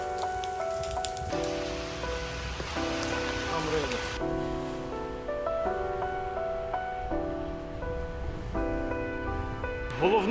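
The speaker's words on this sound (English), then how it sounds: "I have to hang up my purse because it's raining." Steady rain falls outdoors during a bikepacking tour in Italy, a constant hiss of drops lasting throughout, fairly close, with tonal background sounds layered over it and no clear speech.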